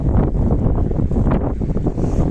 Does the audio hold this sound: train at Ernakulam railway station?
no